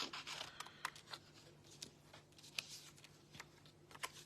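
Stamped paper images of zoo animals for a shaker card being cut out with scissors, a quiet, close series of irregular snips and paper rustles, with no talking.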